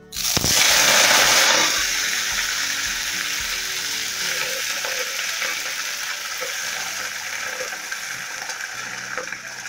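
Taro leaves hitting hot oil in a village kitchen pan, with a loud burst of sizzling in the first moments that settles into a steady, bright frying hiss, with occasional faint stirring clicks and no voices.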